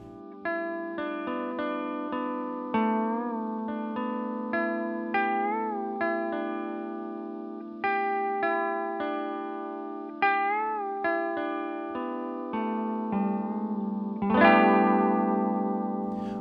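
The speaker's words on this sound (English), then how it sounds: "we can also go for a nice clean Asian zither sound using the notes to the G pentatonic scale" A restrung guitar in an alternative tuning plays clean, zither-like notes from the G pentatonic scale, bright plucked tones ringing one after another in a steady, unhurried line, ending on a louder strummed chord.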